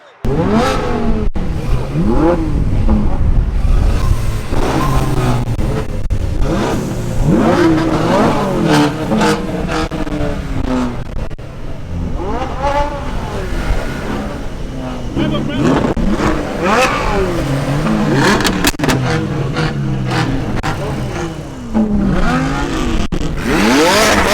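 Ferrari 458 engine revving and accelerating from inside the car, a loud continuous roar with rising and falling pitch sweeps throughout, with people talking over it.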